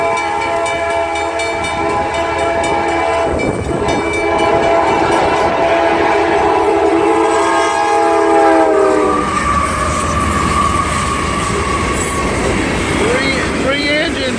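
A freight train with three engines and tank cars rumbles past nearby with a long blaring horn, then heavy rolling clatter of rail cars continues loudly.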